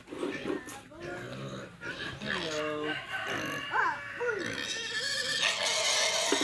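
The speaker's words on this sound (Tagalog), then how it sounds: "Maingay po yung alaga ng baboy." A noisy pet pig squeals and grunts close by near a rice field, with chicken clucks and crowing mixed in and a person talking over the commotion.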